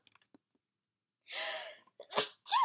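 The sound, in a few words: sneeze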